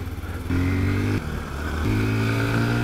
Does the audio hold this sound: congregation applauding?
no